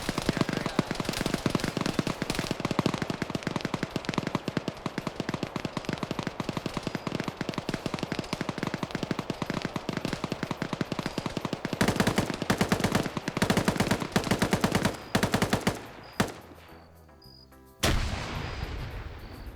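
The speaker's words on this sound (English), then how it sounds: "Pierce coming up with a machine gun." Machine gun fire in a video game battle: dense, relentless automatic shooting mixed with booming impacts fills most of the stretch, then drops away before a final loud burst.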